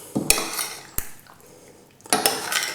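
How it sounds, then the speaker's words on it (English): Spoon scraping and clinking in a pan while pasta sauce with Toulouse and chorizo sausages is stirred: a few sharp metallic knocks and scrapes, close and fairly loud, with quieter gaps between. "Give it a mix of all that sauce."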